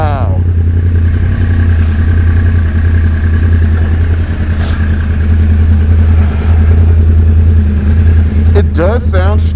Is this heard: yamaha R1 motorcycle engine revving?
yes